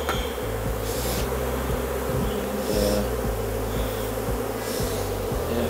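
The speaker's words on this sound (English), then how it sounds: "Just a light bit of smoke to clear the bees out, just to push them all up together." Honeybees buzzing steadily inside a hive while a six-frame nuc is transferred into a long hive after light smoking, a dense continuous drone close by with no talk.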